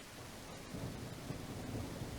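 A thunderstorm in the video game The Isle Evrima: a faint, steady wash of heavy rain with a soft, low, rolling rumble of thunder beneath it.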